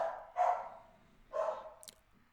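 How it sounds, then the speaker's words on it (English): A dog barks twice in the background indoors, two moderately loud, spaced barks with a faint clatter after, no talk over them. "you just heard Maya barking in the background"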